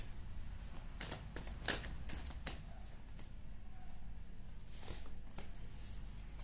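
Tarot cards are shuffled and drawn by hand during a Hindi reading, a quiet run of soft riffling flicks and slaps against a steady low background hum.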